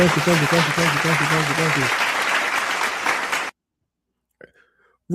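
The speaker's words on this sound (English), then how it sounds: "Clap it up, clap it up." Applause and clapping on a live wrestling talk stream, a dense wash of claps over a sung or tonal backing that cuts off abruptly, followed by near silence with a couple of faint blips.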